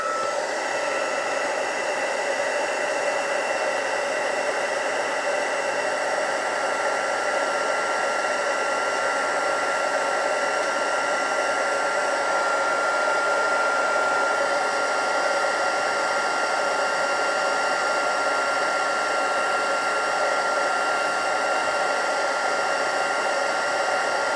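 A heat tool blows a steady, loud whooshing roar while melting embossing powder for spot heat embossing, unbroken for the full stretch with no talking.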